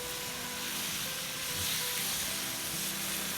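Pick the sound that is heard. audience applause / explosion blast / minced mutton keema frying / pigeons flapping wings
minced mutton keema frying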